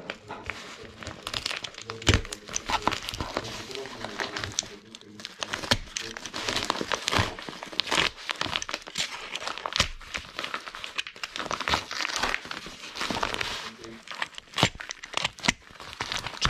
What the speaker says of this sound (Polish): Jest paczuszka, otwieramy.